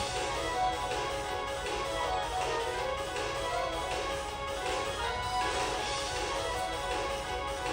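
A dense, driving instrumental track plays continuously with full-band energy and steady rhythmic pulses, loud and busy throughout with no voices.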